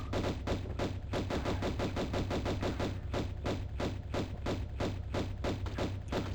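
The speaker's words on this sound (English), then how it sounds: "Oh, he's shooting bullets." An enemy fires bullets at the player in the Atlantis level of Tomb Raider 1: a rapid, steady stream of loud gunshot bursts that repeats without a break for several seconds, with no talk.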